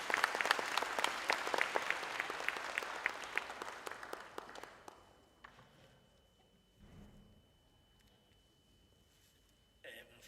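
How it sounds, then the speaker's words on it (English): An audience at a civic ceremony with a mayor honouring local heroes breaks into a loud, dense round of applause that thins out and dies away after about five seconds, leaving near-quiet with a few faint stray sounds. "You deserve a big, big, big round of applause."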